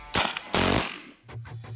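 Two sharp, loud shots from an Evanix Viper .25 semi-automatic air pistol fire in quick succession, each a broad crack, followed by a fainter rhythmic low rattle as the shots fade, with no talk.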